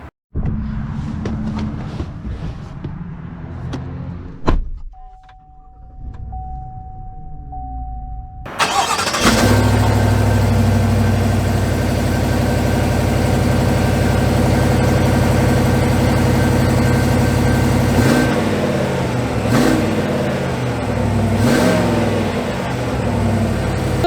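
A 2022 Chevy 1500 Trail Boss with the 6.2 engine cranks and fires after a quiet stretch, then settles into a loud, deep, steady idle with a couple of light revs, heard up close.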